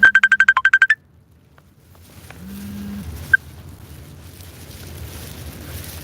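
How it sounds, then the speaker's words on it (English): A phone ringtone sounds a quick run of about nine evenly spaced electronic beeps within a second, then stops, leaving quiet background noise. "Who calling me on the phone?"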